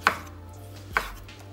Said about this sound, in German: Wir schneiden den grob.